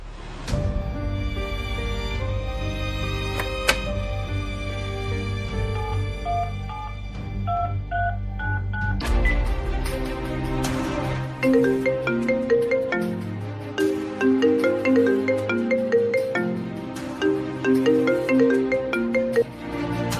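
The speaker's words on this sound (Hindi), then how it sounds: "अभी फिर उसे फोन लगाता हूँ।" An electronic phone dialing tone sequence plays first, then a repeating melodic ringtone continues steadily and fairly loud for the rest of the stretch.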